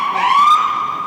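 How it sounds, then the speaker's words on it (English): A loud, steady electronic siren with a rising wail, sounding close and alone, used as a comic cue to move on to the next topic during a roundtable chat. "The siren."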